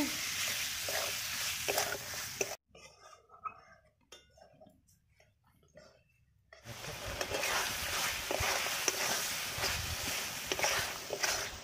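Chicken pieces fry and get stirred in a pan for a chicken ghugni, a steady close sizzle with scraping that drops away briefly for a few seconds before returning just as loud.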